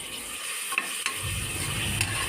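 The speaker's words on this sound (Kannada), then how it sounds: "ಮೆಣಸಿನಕಾಯಿ ಮತ್ತು ಈರುಳ್ಳಿ ಸ್ವಲ್ಪ ಫ್ರೈ ಆಗಿದೆ ಸೊ ಇದಕ್ಕೆ ಒಂದು ಟೊಮೆಟೋನ ಕಟ್ ಮಾಡಿ ಹಾಕ್ಕೊತಿದ್ದೀನಿ" Chopped tomato dropped into a pan of frying chillies and onion for mutton leg soup, a steady close sizzle with a couple of brief stirring clicks and a fuller, louder frying hiss rising partway through.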